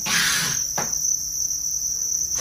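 Farmed Thai crickets chirping in a breeding setup, a steady high-pitched trill running loud and continuous throughout with a brief rustling burst near the start, no voices.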